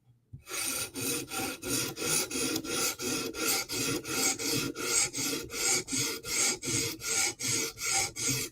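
A Chris Reeve Umnumzaan tanto knife edge drawn across a sharpening stone in a quick cleanup pass, a steady series of about twenty close rasping strokes with brief gaps between them.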